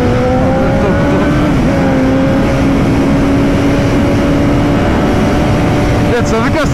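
A 2012 Honda CBR RR motorcycle engine runs loud and close, its rising tones climbing steadily, with brief rushing air near the end.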